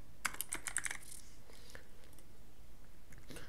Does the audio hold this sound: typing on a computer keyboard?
yes